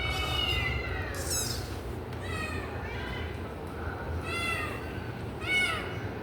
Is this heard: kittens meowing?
yes